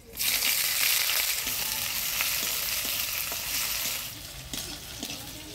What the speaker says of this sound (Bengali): ফোড়নের তেলে পেঁয়াজটা ভাজা হয়ে আসছে